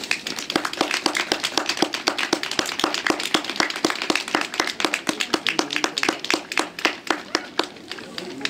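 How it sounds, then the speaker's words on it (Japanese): Rhythmic clapping from a crowd at an American football award ceremony on a stadium field during a Japanese X-League game, steady, close and fairly loud, with faint talk underneath. "皆様盛大な拍手をお願いいたします"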